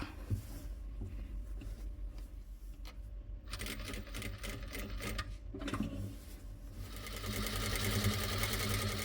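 A sewing machine stitches a ready-made neck patch onto a garment in rapid mechanical runs, pausing briefly twice before resuming and growing louder toward the end, close and alone.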